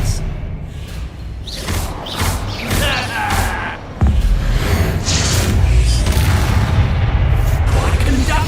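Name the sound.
spell explosions in video game Hogwarts Legacy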